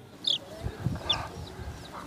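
A chicken clucks before a Nyishi ritual sacrifice in Arunachal Pradesh, giving a few short, bright, close calls over a low rumble of background noise.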